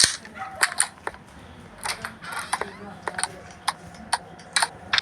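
Gunfire in the horror video game Specimen Zero, an elevator escape, comes as a string of sharp, quick cracks with mechanical clicks, near and moderately loud.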